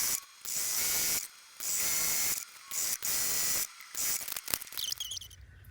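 A sewing machine stitching quilt half square triangles together, running in several bursts of steady mechanical whirring separated by short pauses, close and clear with no talking.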